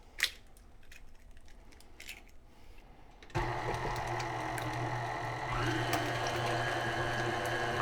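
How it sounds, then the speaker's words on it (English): An electric mixer kicks on abruptly and runs with a steady motorized whir, blending wet persimmon batter with maple syrup, vanilla and eggs; a few light clinks precede it. "so we have all of our wet ingredients in the mixer all mixed up"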